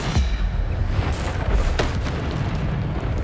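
Bombarda explosion spell in Hogwarts Legacy, a deep booming blast followed by a second impact, loud and close, with rumbling debris and combat effects trailing off.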